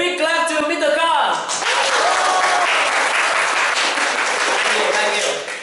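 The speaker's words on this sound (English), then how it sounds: "let's give a big clap to Mr. Khang" A voice speaks briefly before a large audience bursts into loud, sustained applause to welcome a presenter on stage, the clapping dense and close and lasting to the end.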